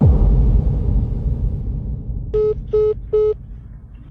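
A deep rumble fades out, then three short, identical electronic beeps sound in an even rhythm, like a call ending.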